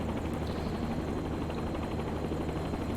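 A training helicopter lifting off gently, its engine and rotor a steady, loud, unbroken roar heard from inside the cabin.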